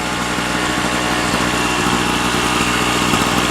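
A Harbor Freight portable generator runs steadily nearby, its engine producing a dense, even mechanical drone with a constant buzzing hum and no pauses.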